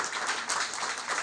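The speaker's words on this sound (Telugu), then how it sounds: "సో దీన్ని మన ఎంపీ అహ్మద్ గారికి ఒకసారి గట్టిగా చప్పట్లు" Applause from an audience at a Malabar Gold charity event in Visakhapatnam, honouring the local MP; a brief, dense wash of clapping, moderately distant and steady, with no talk over it.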